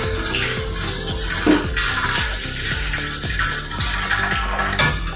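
Water pours steadily onto rice soaked overnight, a continuous close splashing and gurgling that is fairly loud, with no talking.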